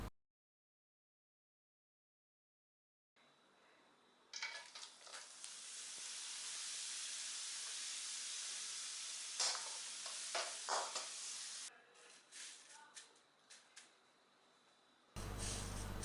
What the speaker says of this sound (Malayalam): അപ്പോൾ അങ്ങനെ മുഴുവൻ പപ്പടം ഞാൻ വറുത്തെടുത്തു.